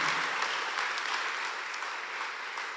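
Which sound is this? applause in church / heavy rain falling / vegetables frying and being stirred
applause in church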